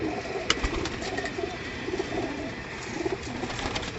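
Pigeons coo softly in a rooftop loft in Amritsar, repeated low throaty coos rising and falling at close range, mixed with faint chirps and clicking movement.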